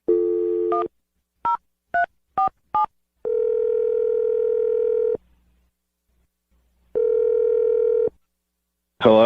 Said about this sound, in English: I'm going to dial Ryder's phone number.